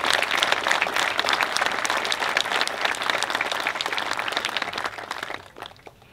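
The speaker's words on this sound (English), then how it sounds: "How about a big round of applause for my chairman, Mr. John Field." An audience at a memorial ceremony in a park for 9-11 responders bursts into sustained, dense applause that holds steady and then tapers off near the end.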